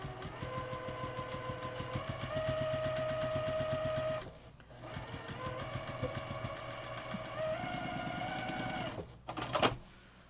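A sewing machine stitching quilt fabric on the bias along a diagonal, running in a steady rapid mechanical rhythm for about four seconds, pausing briefly, then running again before a final clunk. Close and loud, with no talking.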